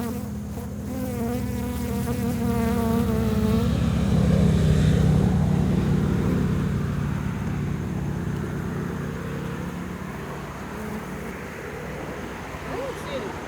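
Honey bees buzz steadily in a dense, loud swarm at an open hive during an oxalic acid treatment, with a low engine-like drone underneath and people talking nearby.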